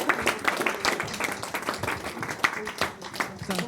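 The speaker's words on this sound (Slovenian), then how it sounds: "skupinski aplavz" A group at an event in an administrative academy hall in Slovenia claps together in steady, dense applause, moderately loud and close, with voices mixed in.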